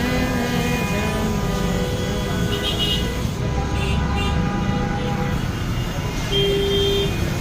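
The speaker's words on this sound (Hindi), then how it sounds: "हॉर्न की आवाज़ें हैं" Car horns honk through a Karachi traffic jam in Gulshan-e-Iqbal during a political rally, with sustained horn tones over a dense, continuous din of idling and moving vehicles.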